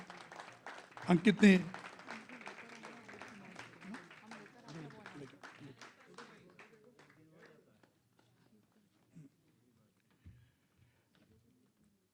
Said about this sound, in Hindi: अंकित शर्मा, जोरदार तालियां बजाएं।